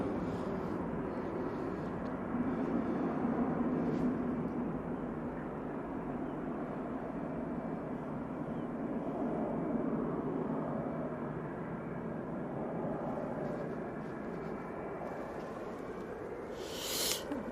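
Iberia A380 arriving from Madrid at Manchester Airport, a steady distant jet roar sustained throughout, swelling slightly and fading with faint background noise, no talk audible.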